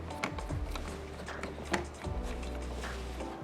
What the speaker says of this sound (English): We'll take our 2mm hex driver and we need to remove 4 screws